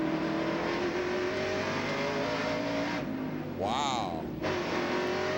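NASCAR trucks race at Martinsville Speedway in 1997, their engines a steady, loud roar with a brief whine partway through, under a commentator's voice.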